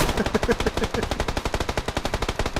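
Rapid automatic gunfire from a player's weapon in PUBG, a close, loud, fast stream of evenly spaced shots continuing without pause.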